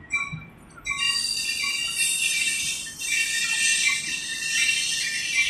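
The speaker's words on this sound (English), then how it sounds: "There is another train coming from the other side. This is a San Joaquin's train, or Capital Corridor." An Amtrak San Joaquins or Capitol Corridor passenger train passes bound for Sacramento, a steady wash of rolling rail noise with high metallic wheel squeal and whine held throughout, briefly quieter at the start, with faint birdsong and no talk.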